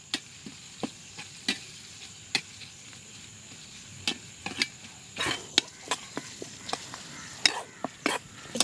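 Onions, dried chilli and curry leaves sauté in a pan, a low sizzle punctuated by sharp intermittent scrapes and taps of a spoon stirring, close and fairly quiet.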